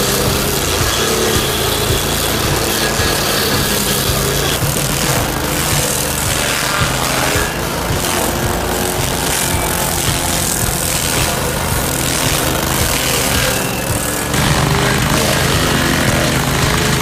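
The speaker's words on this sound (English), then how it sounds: "this machine not only crushes everything in sight but also features an intelligent crushing system" A homemade automatic firewood processing machine runs steadily, its loud, dense mechanical roar holding nearly constant with no voices over it.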